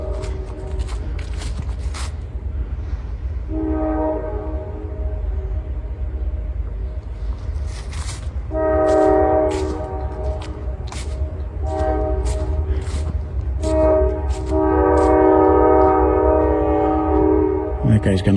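A train in Conneaut, Ohio passes with a steady rumble as its horn sounds in repeated long blasts and a bell clinks rapidly, loud and fairly near.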